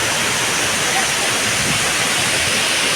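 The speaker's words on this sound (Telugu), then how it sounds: "అదిగో చూసారు వాటర్ ఫాల్స్." A waterfall at Araku swollen in the rainy season roars as a dense, steady broadband rush of falling water, loud and continuous throughout, with faint voices mixed into the noise.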